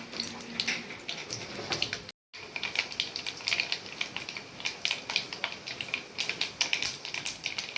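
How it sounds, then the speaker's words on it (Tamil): Mustard seeds splutter and pop in hot oil in a pan, giving off a dense, rapid crackle of tiny bursts that goes on throughout. The sound is close, stops briefly once, and no one speaks. "கடுகு பொரியுது."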